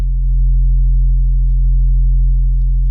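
A synthesized sine wave sub bass drones at maximum volume, a steady deep hum that holds unchanged for about three seconds, loud and alone.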